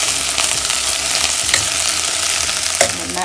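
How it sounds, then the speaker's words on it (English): Basmati rice being sautéed and stirred in a pan, a steady close sizzle with soft scraping stirs and a few light clinks, no talking. "Nicely mix it and saute for 3 minutes till each of this grain rice becomes shiny."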